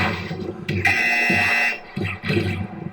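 A loud electronic buzzer blares for close to a second amid a noisy, rhythmic background of thuds and crowd-like sound, with shorter tones around it.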